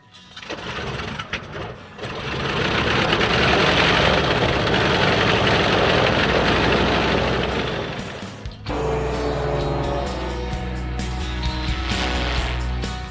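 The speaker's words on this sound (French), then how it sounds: "la mise en route des moteurs du B-25 Mitchell" The piston engines of a B-25 Mitchell bomber crank and roar to life at an air festival in General Rodríguez, Argentina, settling into a loud, steady rumbling idle with a deep throbbing drone.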